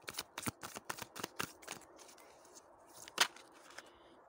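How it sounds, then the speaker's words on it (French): Cards riffled and shuffled from a tarot deck in a quick burst of soft papery flicks, then a pause before one crisp snap as a single card is drawn, close and fairly quiet with no talking. "On va tirer une carte qui sera l'atout."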